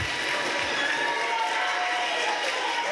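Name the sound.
school assembly applause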